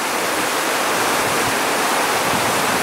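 Rapids on the Baraboo River, a free-flowing stretch where a dam once stood, rushing in a steady, loud, broadband roar of churning water that stays constant throughout, with no voices.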